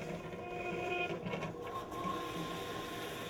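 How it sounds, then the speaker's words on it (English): The pump of a Pitco P14 fryer filter machine runs with a steady, fairly quiet mechanical whir and faint whine, continuous and unchanging in a kitchen setting. "Flip the toggle switch on the front of the machine up to start the pump."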